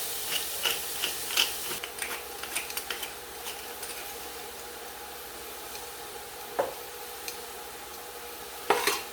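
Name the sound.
meat sautéing in a pan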